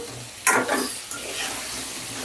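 Jujubes frying in hot oil for a sweet pickle give a sudden crackling burst, then softer sizzling and bubbling that settles into a steady, moderately quiet hiss, with no talking.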